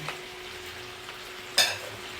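Cajun seafood with shrimp and corn in sauce sizzles in a pan while being stirred. A soft, steady hiss is broken near the end by one sharp, louder scrape of a utensil against the pan.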